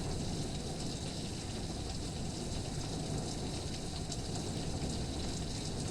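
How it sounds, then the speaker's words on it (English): Heavy rain mixed with hail pelting a garden deck in a hailstorm, a dense, steady roar of drumming impacts that holds constant throughout with no voices. "it's raining too hard and hailing too hard"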